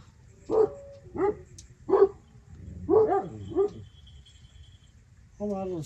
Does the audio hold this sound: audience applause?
no